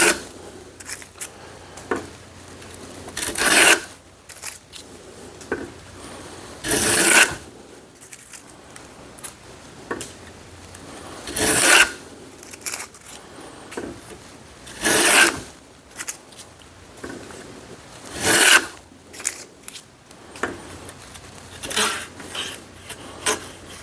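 Stanley No 78 rabbet plane being worked along a wooden board, producing repeated rasping shaving strokes at a steady rhythm, each a brief bright scrape close by with short quiet gaps between, no talking.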